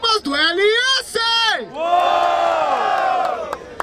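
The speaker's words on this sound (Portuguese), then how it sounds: "Barulho para as rimas do LS" A crowd at a Brazilian rap battle, the Batalha da Aldeia in Barueri, São Paulo, roars and cheers loudly in rising shouts and whoops, close and dense, with an MC's voice calling out over it.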